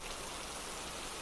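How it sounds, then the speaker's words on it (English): Steady rain as a sound effect pours down in a continuous, even hiss of drops, fairly soft and unchanging, with no voices. "it started to rain"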